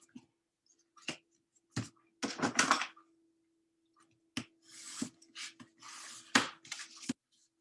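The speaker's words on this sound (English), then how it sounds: "Burnish my card real quick." A paper card being burnished by hand during rubber-stamp card making, heard as a series of short, dry rubbing strokes in uneven bursts, with a steady low hum underneath and no talking.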